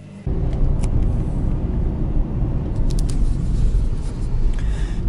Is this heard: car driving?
yes